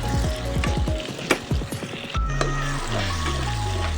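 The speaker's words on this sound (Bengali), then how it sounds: "এদিকে ডিম আলুটা খুব ভালো করে ভাজছি" Chunks of egg and potato fry in a pan with salt, turmeric, cumin and chilli powder, giving a steady crackling sizzle with sharp clicks and pops near the mic and no talk over it.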